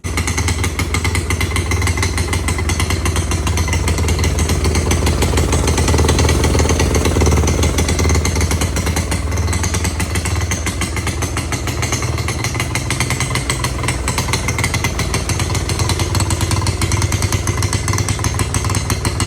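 A 40-year-old Honda ATV engine runs and smokes, idling high with a loud, harsh, rapid mechanical clatter that stays steady and close for the whole stretch, with no voices.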